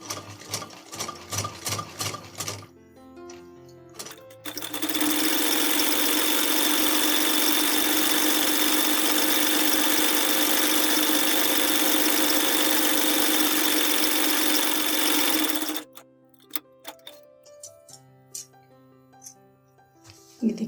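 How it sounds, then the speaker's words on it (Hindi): Sewing machine running a long straight stitch for a frill, a loud steady motor whir lasting about eleven seconds, framed by brief clicks and handling sounds before and after. "उसके बाद हमें इसे एक सीधी सिलाई चला लेनी है।"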